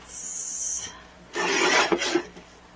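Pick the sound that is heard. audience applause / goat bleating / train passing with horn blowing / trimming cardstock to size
trimming cardstock to size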